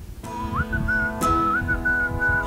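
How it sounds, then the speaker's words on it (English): Whistled melody in a pop song recording, a bright whistled tune with short rising slides riding over the backing track's steady chords and beat. "You can hear the whistles."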